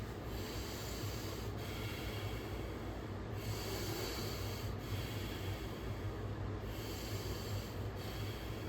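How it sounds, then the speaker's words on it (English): A nasal breathing exercise done as preparation for a cold plunge: close, steady rushing airflow through the nose, broken by brief pauses about every one and a half seconds, with no speech. "the second one for the cold plunge is not using your mouth at all, and it's just simply nasal breathing"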